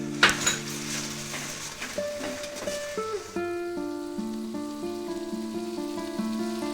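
Garlic, ginger and green chilli paste drop into hot oil for mutton: a sharp splash and sputter up front, then a soft, steady sizzle that carries on beneath gentle background music.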